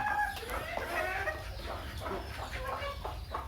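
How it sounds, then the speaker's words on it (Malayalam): A hen clucks in short, soft bursts against a low background hum, with no talking. "ആ മൂലയിൽ ഇരിക്കുന്ന ഒരു കോഴിയെ നിങ്ങൾക്ക് കാണാം"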